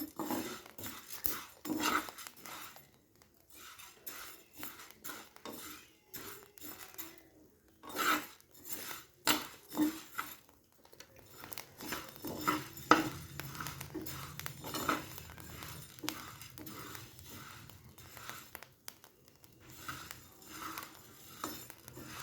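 Uncooked rice being stirred and roasted in a dry pan over medium heat to make puffed rice, giving repeated scraping and rustling strokes with a light rattle of grains, close and steady, with no one talking.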